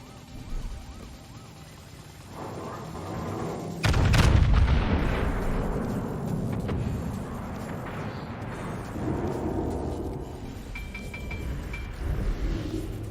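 Naval artillery salvos in World of Warships, a heavy boom at about four seconds rumbling into a long low roar, with smaller distant blasts, ocean ambience and battle noise throughout.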